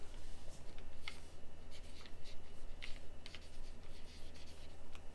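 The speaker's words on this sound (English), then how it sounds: "So this one here, just write our meal." A pen writes a meal label on a plastic freezer bag, with steady scratchy strokes and short pauses as each word is written, close and fairly quiet over a low background hum.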